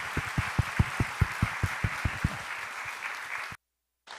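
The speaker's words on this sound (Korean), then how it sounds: "우리 박수 한번 할까요?" Short round of applause from a church congregation at a Sunday service, crisp claps loud at first and then thinning into a diffuse patter before cutting off, followed by a brief pause.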